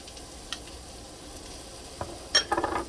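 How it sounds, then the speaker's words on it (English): Garlic sautéing in a pan gives a low, steady sizzle, with a few short utensil clicks and a brief louder burst of scraping or stirring near the end. "And you saute the garlic. Don't let it get brown."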